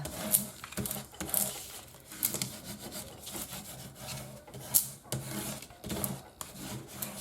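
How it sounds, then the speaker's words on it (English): A small hand scraper rubs firmly back and forth over vinyl on a screen printing screen, giving dry scraping strokes in uneven bursts with short pauses between them, close and moderately loud, with no talk. "I'm going to take my little scraper. All right, and we're just going to give that a good rub"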